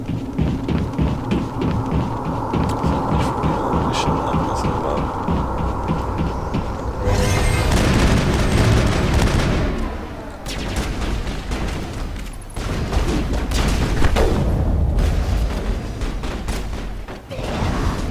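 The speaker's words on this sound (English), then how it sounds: "Assault rifle." Assault rifle fire in the Mass Effect video game crackles in rapid bursts, with dense sustained volleys and short pauses between them, loud and close over a rumbling game soundscape.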